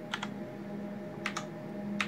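Keys clatter on a computer keyboard as a password is typed, a few quiet clustered taps in short bursts against a faint hum.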